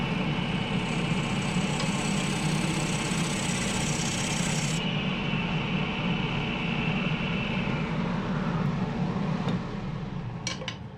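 A wet cherry bowl blank is rough turned on a wood lathe, producing a continuous close rasping, rubbing hiss over the machine's steady hum, with the tone shifting partway through.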